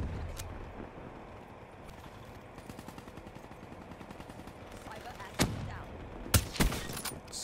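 Gunfire in Call of Duty Black Ops III sounds faintly under a constant background rumble, with a few sharp, loud shots bursting out near the end.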